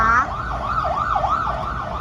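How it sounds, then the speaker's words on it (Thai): A wailing ambulance siren sweeps up and down repeatedly, moderately loud and a little distant, over a low rumble of traffic. "มันอาจจะมีเสียงรถพยาบาลนิดนึงนะคะ"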